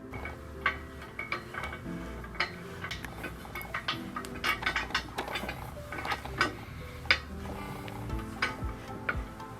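An Allen key turns a bolt through the base plate of a pedal-activated hand sanitizer dispenser into its crossbeam, making a close, irregular run of small metallic clicks and ticks over several seconds.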